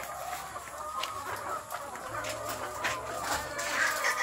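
One-year-old native chickens cluck in repeated short calls close by, several birds overlapping in a farmyard chorus.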